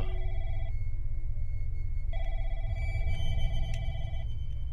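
Telephone ringing in a first-person video game, a steady electronic ring in two long bursts separated by a short pause, sounding over a continuous low rumble of game ambience.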